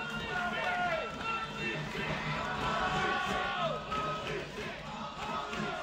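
A loud wrestling arena crowd roars and cheers in a sustained wave when a women's wrestler kicks out of a cutter pinfall, with dense shouting and whoops throughout.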